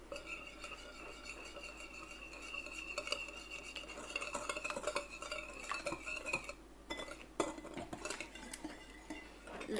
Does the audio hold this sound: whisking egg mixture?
yes